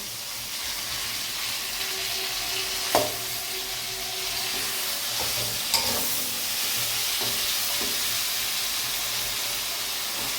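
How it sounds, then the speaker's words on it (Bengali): Fried tomatoes and potatoes are mashed and stirred in a hot pan for a fish curry. Steady sizzling hiss runs throughout, with a few scraping knocks of the utensil. "এবার আমরা টমেটোটাকে ম্যাশ করে নেব"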